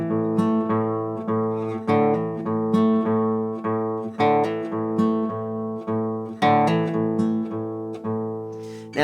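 An acoustic guitar plays a slow fingerpicking pattern with thumb-and-finger pinch picks and a hammer-on, giving steady, rhythmic plucked notes that ring together up close with no talking.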